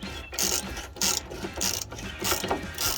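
Rapid ratchet clicks from a hand ratchet loosening the three 18 mm bolts atop a strut on a 2007-2018 Chevrolet Silverado 1500, in steady back-and-forth swings, close and fairly loud.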